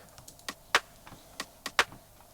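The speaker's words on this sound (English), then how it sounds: "It's basically just a clap loop" A clap loop playing in Ableton, with a handful of sharp, bright claps in an uneven rhythm, the first faded in and the later hits louder, heard alone over a faint hum.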